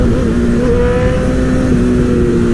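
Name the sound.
motorcycle engine revving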